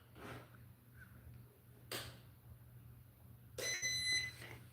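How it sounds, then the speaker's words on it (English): UV nail lamp beeping during a poly gel manicure, a quiet sharp beep followed a couple of seconds later by a brief cluster of high electronic tones, faint against a hushed room. "Now you're gonna hear the lamp beep."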